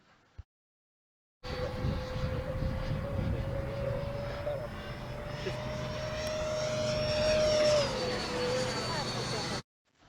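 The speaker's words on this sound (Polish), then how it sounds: "Samolot lata na dużej mocy." A Freewing MiG-29 Fulcrum model jet screams past at high power, its steady whine rising in pitch then dropping as it banks away, loud and continuous.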